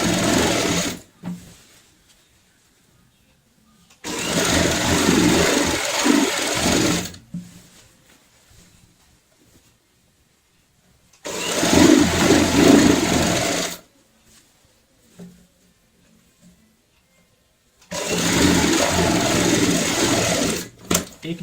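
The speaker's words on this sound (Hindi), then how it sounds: "एक निशान से हमने शुरुआत की थी, दूसरे निशान पे हमने सिलाई को पूरा किया है।" A sewing machine stitching fabric strips together for a bed sheet, running in three loud, sustained bursts of several seconds each, separated by quiet pauses with faint handling noise, close and unaccompanied by talk.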